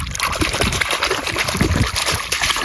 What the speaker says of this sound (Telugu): ఇట్లా ఈ వాటర్ సౌండ్ కానీ